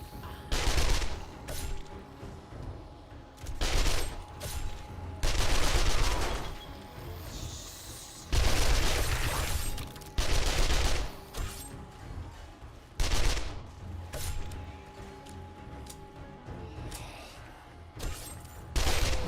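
Rapid bursts of gunfire from the survival video game 7 Days to Die, including 9mm weapons and a shotgun, with repeated loud volleys and short pauses between them.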